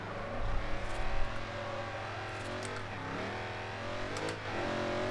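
A race car's engine revs hard as it launches and accelerates in a Forza Horizon drag race, a loud sustained roar whose pitch climbs through gear changes, with no talk over it.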